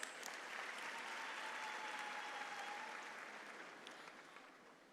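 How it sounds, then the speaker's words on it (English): Distant audience applause at a graduation ceremony, a steady soft patter of many hands clapping throughout, slowly fading near the end. "Ladies and gentlemen, a round of applause for our sponsors."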